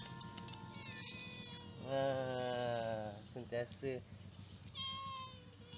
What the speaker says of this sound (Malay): Siapa nama kucing?